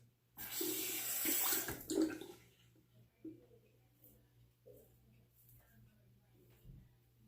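Tap water runs briefly over a razor, a loud close gush for about two seconds, followed by quiet small clinks and taps after the water stops.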